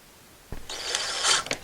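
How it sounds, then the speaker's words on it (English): A power driver starts 1-inch Robertson wood screws into a board with a short, close mechanical whir lasting under a second, preceded by a faint knock. "we're going to use 1-inch Robertson wood screws. We'll just pre-start our screws."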